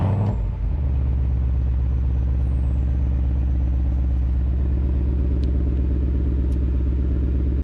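A 2020 Ford Mustang GT Premium with active exhaust idles with a steady, deep, loud rumble after a brief initial blip, close by and alone.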